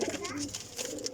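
Pigeons coo softly and briefly, somewhat distant, against a murmur of people talking nearby.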